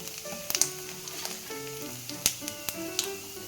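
Sun-dried thalippu vadagam frying in hot oil in a pan, a steady close sizzle broken by a few sharp taps and crackles, with no talking.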